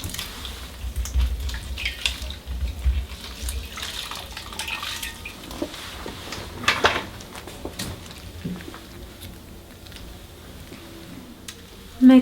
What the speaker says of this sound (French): Nous allons rincer notre masque aux enzymes.